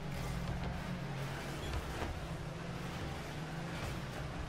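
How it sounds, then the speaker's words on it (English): Car engine from the video game Rocket League, a steady droning roar with a low hum, continuous and fairly loud across the whole stretch, no talk over it. "who is screaming like that? Alright, oh, that's the engine"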